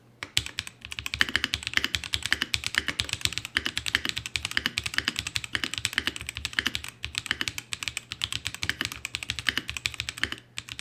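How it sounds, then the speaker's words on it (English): Rapid, steady typing on a Redragon K649 keyboard with low-travel Gold Melt linear switches, producing soft, close clicks in a continuous rhythm with no talking. "Redragon is using a new 3-pin switch called the Gold Melt, and they are low travel, very linear sounding switches."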